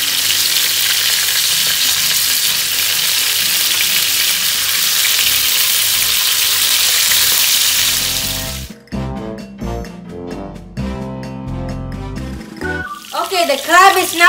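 Crab frying in a pan for a crab stir fry, a loud, dense hiss of sizzling oil that runs continuously for about nine seconds before giving way to speech.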